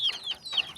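Chickens on a farm give a few quick, close clucks in short bursts, soft and alone with no talking.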